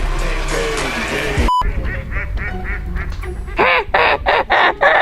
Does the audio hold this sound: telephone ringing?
no